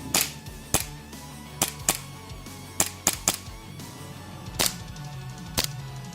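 A green gas airsoft pistol dry firing, giving sharp, close snapping clicks in an uneven series of about a dozen shots with short pauses between, alone with no talking.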